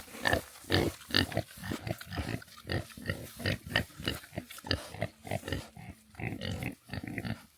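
Idaho pasture pigs grunting in a rough, overgrown pen, a rapid string of loud, close grunts and snorts coming one after another with brief pauses, no people talking.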